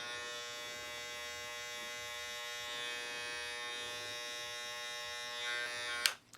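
An electric hair clipper fitted with a 3 mm guard, lever open, cutting hair during a blowout taper haircut: a steady, continuous close buzz with a sharp brief spike near the end, and no voices.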